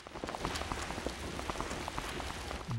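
Rain falling in the game Raw Danger, a steady patter of drops on surfaces with scattered sharper splashes and faint running steps, soft and continuous.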